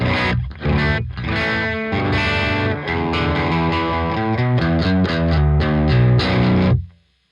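Electric guitar played through free VST plugins with semi broken-up distortion and a TP-A1 power amp, aiming at a stoner, doom or sludge tone. Loud, sustained chords and riffs ring out alone for about seven seconds, then cut off abruptly.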